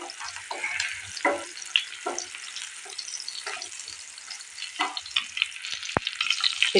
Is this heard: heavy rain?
no